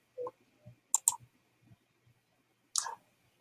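A computer mouse clicks as a post is submitted in Google Classroom: a quick double click near the start, then a single sharp click later, each crisp and close against a quiet background.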